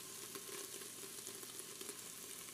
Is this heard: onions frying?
yes